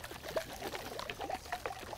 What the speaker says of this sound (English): Fill the rest of the container with water, seal the container really tight, and give it a good shake until it turns into a murky mess.